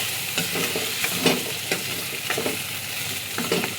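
Food frying in oil in a pan on a stove for South Indian chutney, with a steady sizzle broken by several scraping stirs of a spoon, close and alone.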